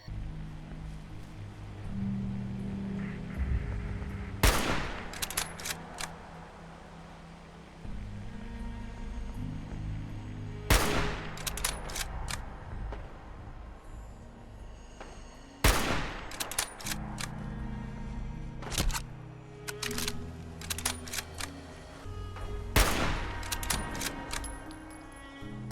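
Scout rifle shots fired at a gunner in Fallout 4, five loud single cracks spaced several seconds apart, each with a short ringing tail, over a murmur of game ambience.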